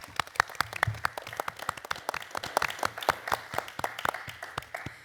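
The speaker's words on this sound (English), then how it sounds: "Give her applause." Audience applause after a talk at an architecture-themed event, with sharp, fairly quick individual claps ringing out clearly over a steady wash of clapping for about five seconds, nearby and moderately loud.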